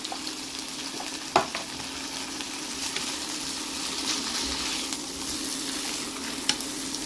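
Sliced onions frying in a pan give a steady, low sizzle throughout, broken by a couple of sharp clinks or scrapes; no one speaks over it.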